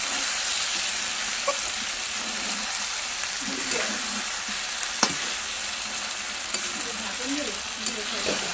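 Potatoes frying in oil for a meat curry give a continuous close sizzle with occasional pops and scrapes of stirring, steady and even throughout, with faint talk in the background.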